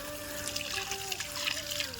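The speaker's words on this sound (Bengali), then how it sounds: "চলো হাতটা ধুয়ে নি গাইস" Tap water runs over hands being washed at a sink, a steady close trickle and splash lasting the whole moment with a faint tonal hum behind it.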